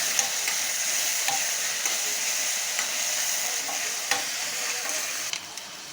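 Browned onion and freshly added chopped tomato sizzle steadily in a pan for kaju curry, with a spoon scraping and stirring through them in repeated close strokes.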